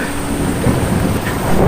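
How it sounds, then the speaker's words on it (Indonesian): Heavy rain pours during a thunderstorm with strong wind, a dense, loud, steady roar of rain and low rumbling filling the whole stretch, with no voices. "hujan turun dengan begitu lebat, angin pun bertiup dengan begitu kencang, langit seakan tanpa bintang, suasana mencekam saat petir saling bersahutan"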